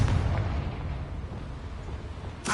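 Confringo fire blast spell exploding in Hogwarts Legacy, opening with a heavy booming burst that rumbles and fades over two seconds before a sharp new crack at the very end, no speech.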